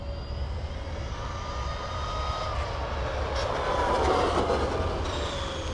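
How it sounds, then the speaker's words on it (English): Traxxas Maxx RC car running on belted tires with a 6700 LiPo, giving a continuous high-pitched electric motor whine with shifting tones that swell slightly toward the end, steady and fairly loud with no voices. "The way Traxxas motors sound is just loving. It's kind of like a supercharger, like a turbo almost."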